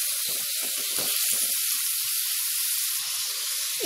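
Three chopped medium onions sizzling in a pan for chicken curry, a bright continuous hiss with clustered scraping and clacking stir strokes early on, then sparser spoon knocks under the steady frying.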